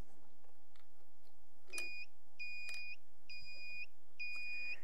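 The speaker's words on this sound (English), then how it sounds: "I'm turning on the beep." A series of high electronic beeps from a rocket launch countdown in a steady rhythm, each short tone sounding a couple of times over a faint background hum.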